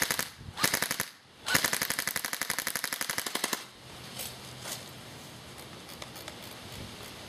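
A gun fires at a watermelon outdoors in rapid automatic bursts, two quick volleys of sharp, evenly spaced shots, then a few scattered single pops against faint rustling.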